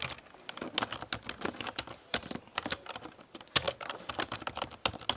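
Fingers tap steadily on a computer keyboard, a quick irregular patter of nearby key clicks with no voices.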